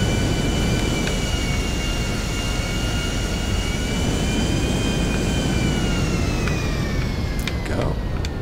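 Engine of a big plane in GTA 5 Online, taxiing at a Fort Zancudo hangar: a steady, loud jet roar with a high whine sustained throughout, a brief rising whoosh near the end.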